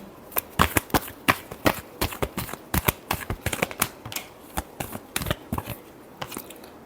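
Tarot cards being shuffled by hand, a rapid run of crisp riffling snaps and flutters at close range, steady and uneven in rhythm throughout, with no talking.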